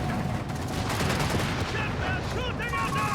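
Sturmgewehr rifle fire in a Company of Heroes 3 battle, rapid overlapping gunshot bursts over dense combat noise, with a voice talking over it.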